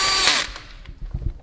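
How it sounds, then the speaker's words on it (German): Power tool whirring briefly as it tightens valve cover screws on a plastic cover of an Audi S3 8P 2.0 TFSI, a short high-pitched run that stops, followed by faint handling clicks. "Außen die Schrauben müssen dann jeweils über Kreuz angezogen werden."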